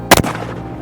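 A single loud rifle shot fired at a Cape buffalo on an African hunt, a sharp close crack with a brief double peak that rings out and decays quickly; no talking.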